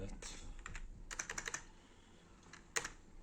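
Number keys tapped on a computer keyboard while setting up a Windows 11 install on an AMD Ryzen 5 1600 PC: scattered close clicks, then a quick run of keystrokes and one louder tap near the end, with no talk.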